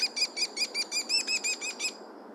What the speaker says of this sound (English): the Merlin will tell you probably that is an American kestrel